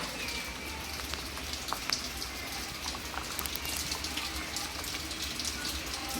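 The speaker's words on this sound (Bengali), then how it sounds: "দেখুন বাইরে বৃষ্টির আওয়াজ" Heavy rain pours down outside while khichuri simmers on the stove indoors, a steady, dense patter with faint bubbling and no voices.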